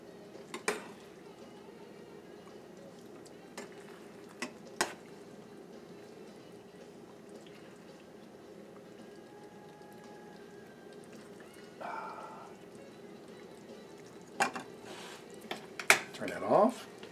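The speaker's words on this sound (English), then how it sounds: "I can get my spoon, put it in my bowl here, and my dinner is made" A spoon clinks into a bowl of rigatoni in a home kitchen, a few sharp metallic taps and scrapes scattered over a low hum, with a louder clatter of dishes near the end.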